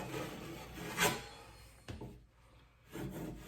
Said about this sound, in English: we're gonna kind of sculpt it a little bit and scrape it down a little bit